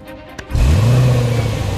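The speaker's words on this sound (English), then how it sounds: "The noise of a V8 is an important thing for pistonhead readers." A Range Rover Sport's V8 engine catches and revs up after a short quiet moment, then holds a loud, deep, steady drone close by.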